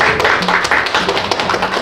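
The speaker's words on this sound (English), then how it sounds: "Please give her a round of applause." Applause at a Korean tea ceremony for the ceremony helper, a brisk patter of hand claps from a small group, close and fairly loud.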